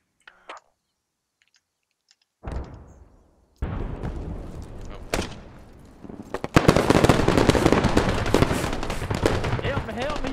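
Gunfire in the tactical shooter Squad on the Yehorivka map, starting with a few isolated loud cracks and building into sustained rapid automatic fire in the second half, close and dense.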